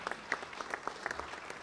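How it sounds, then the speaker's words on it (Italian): Audience applause at a piano competition gala concert in Friuli Venezia Giulia greets a speaker onto the stage, a brief, fairly sparse patter of clapping at moderate volume. "accogliamola con un applauso"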